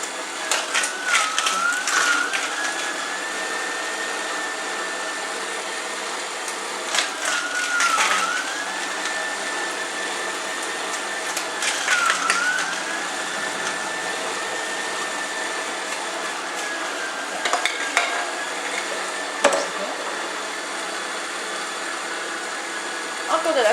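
A Moulinex Infiny Press Revolution juicer pressing apple and carrot gives a steady motor whine and grinding hum, dipping briefly as pieces are fed in, with occasional clicks and a person talking over it.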